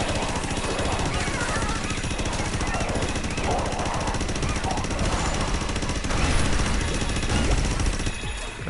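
Rapid gunfire in the VR game Astro Bot rattles on nonstop like a machine gun, dense and steady for the whole stretch, with a voice talking over it.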